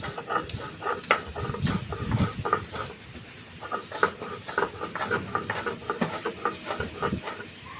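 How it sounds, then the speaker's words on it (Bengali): About six garlic cloves are ground into paste on a stone, a repeated rough scraping and knocking rhythm, close and moderately loud, with brief pauses between strokes. "সেই রসুনটা বেটে নিচ্ছি।"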